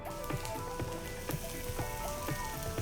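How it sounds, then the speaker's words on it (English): Garlic and onions sautéing in oil in a pan over medium heat, a steady close crackle and sizzle with scattered pops and no talk. "So we're gonna saute the garlic and the onions."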